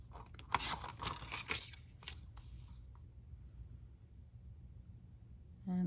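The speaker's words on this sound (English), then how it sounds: "And then we'll cut that off and then cut this down as well." Paper being cut with scissors for a handmade dos-a-dos journal, a few crisp snips and rustles up close in the first half, then near quiet.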